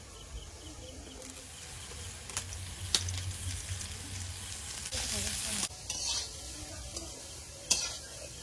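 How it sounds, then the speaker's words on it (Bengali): Beans and carrots sizzle steadily in a hot wok for chicken chow mein, a constant crackling fry broken by a few sharp scrapes and clanks of a spatula stirring. "বিন কড়াইটা হাফ ভাজা হয়েছে, এবারে গাজরটা দিয়ে দেবো।"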